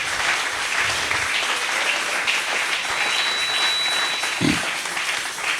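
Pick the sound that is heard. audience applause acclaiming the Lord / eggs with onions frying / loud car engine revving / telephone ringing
audience applause acclaiming the Lord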